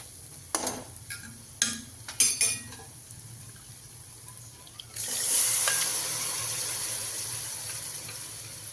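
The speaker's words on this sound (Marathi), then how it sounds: "आता मी टाकणार आहे शिजलेले हुलगे" Cooked horse gram is tipped into frying masala: a few sharp spoon clinks and scrapes against the pan come first, then a loud, steady sizzle swells up and keeps going as the mixture is stirred, with no talking.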